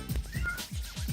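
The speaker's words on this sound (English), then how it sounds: "I don't know if you can hear him meowing back there." A cat meows several times in quick succession, plaintive and fairly loud in a room, while a game plays quietly in the background.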